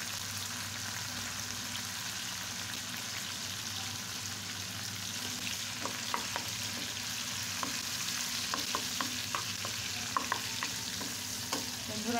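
Chopped onion and green chilies fry in oil with cardamom for a pangas fish bhuna, a soft, steady sizzle with a run of light stirring taps from a spatula in the second half.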